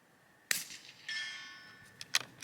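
Rifle fire on steel targets at an outdoor range: a sharp distant crack, a metallic ring that hangs for about half a second, then another crack, all fairly faint.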